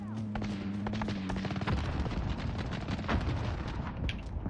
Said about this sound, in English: Fire tower is trying to shoot me.